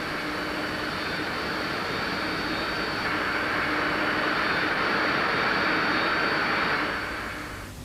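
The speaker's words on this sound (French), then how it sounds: "la turbine à gaz" A gas turbine runs with a loud, steady broadband roar and a faint high whine. The sound holds evenly for several seconds, then eases off slightly at the very end.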